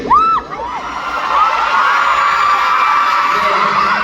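A large crowd at a K-pop fan event in Cebu cheers and screams, with high whoops rising over a loud, sustained roar of voices.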